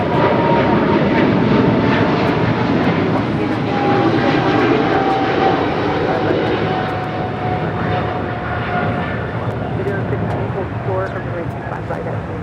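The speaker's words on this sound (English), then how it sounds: "China Cargo 777 taking off on 25 right." A China Cargo Airlines Boeing 777 freighter taking off from runway 25 right at Los Angeles International Airport, a loud, sustained jet engine roar that slowly eases as the aircraft departs.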